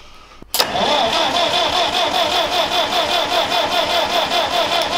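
A GAZ-M1 car engine, run on 24 V after decades of standing, catches after a sharp start and settles into a loud, steady rhythmic running with pulsing combustion beats, close by and without talk.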